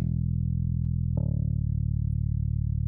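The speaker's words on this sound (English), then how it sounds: "we have a synth E-bass coming in that's also part of the Ableton stock library." Ableton stock synth E-bass playing a sustained low distorted tone with a fresh note attack partway through, heavy and continuous with effects-unit coloring, no voices.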